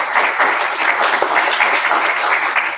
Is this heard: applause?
yes